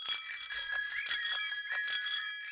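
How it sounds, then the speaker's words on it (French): A cartoon bicycle bell rings rapidly over and over, bright and metallic, close and loud, without any talking. "Qui a la sonnette la plus bruyante?"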